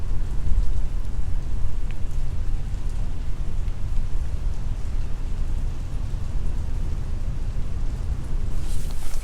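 Steady rain pattering on a surface, a constant wash of drops with a low rumble underneath, continuous for the whole stretch and no voices.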